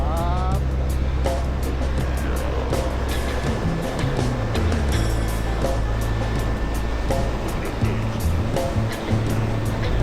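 A Honda Beat motorbike ridden flat out at its top speed of about 80 km/h on a smooth, quiet road in Southeast Sulawesi. A loud, steady engine drone blends with constant wind rush throughout, with no talking.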